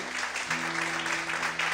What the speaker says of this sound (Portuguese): Quantos podem glorificar a Deus e aplaudir o Senhor bem forte nessa noite?